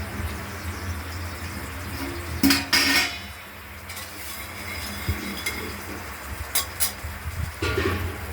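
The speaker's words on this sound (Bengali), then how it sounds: "কড়াই বসিয়ে দেওয়া হলো" A wok set down on a stovetop while cooking a ridge gourd and poppy seed dish, giving a couple of sharp metallic clanks and clinks over a low steady hum, with no talking.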